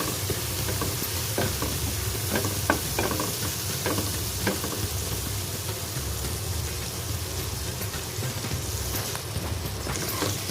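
Ginger juice frying hard in a pan for Korean-style fried chicken drumsticks: a dense, loud, continuous hiss and crackle, close up, with occasional stirring scrapes and no voices.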